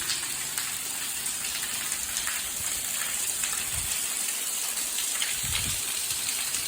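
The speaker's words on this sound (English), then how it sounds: "This is probably the worst water ingress point." Water leaking through the stone lining of an old railway tunnel, a continuous splashing trickle with scattered drips and a few louder low splashes, echoing in the enclosed space.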